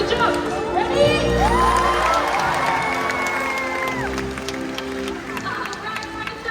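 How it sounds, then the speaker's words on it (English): A stadium audience at a SeaWorld Orlando killer whale show cheers and applauds loudly, with crowd roar and shouts swelling early and then tapering, while amplified music or tones play over it. "let's give her a big round of applause"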